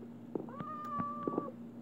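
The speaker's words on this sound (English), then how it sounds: "Oh, that's where I heard a cat." A cat in Minecraft gives one short, steady meow, with a few soft clicks and taps around it, fairly quiet and heard alone.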